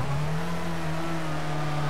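A rally car engine in the video game WRC 4 holds at full throttle, a loud, steady high-revving drone with a constant pitch throughout, no talk over it.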